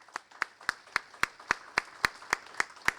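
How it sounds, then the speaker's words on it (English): Steady, evenly spaced clapping at a town hall for the candidates: about eleven sharp, moderately loud claps in a regular rhythm, with no voices over them. "If we can give one more round of applause to all of our candidates"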